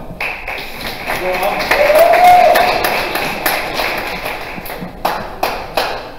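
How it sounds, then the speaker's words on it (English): A crowd applauds at a tech startup demo night, scattered claps with a voice speaking over them, followed by a few separate sharp claps or thumps near the end. "Let's get a round of applause for Ahmed."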